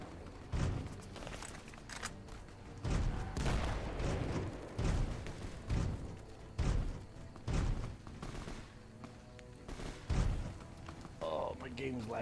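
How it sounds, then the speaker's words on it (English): Repeated bursts of gunfire in the video game Fallout: New Vegas, heavy booming volleys arriving every second or two across the stretch, loud and close, with brief quieter gaps between them. "I'm hearing gunshots."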